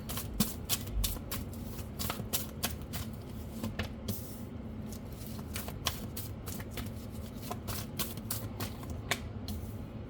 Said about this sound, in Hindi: 2 कार्ड और ले लेते हैं।